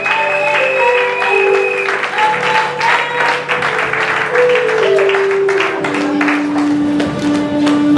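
Church congregation at an international church convention in Côte d'Ivoire applauding and acclaiming, with steady dense clapping throughout mixed with crowd voices and a sustained musical tone underneath.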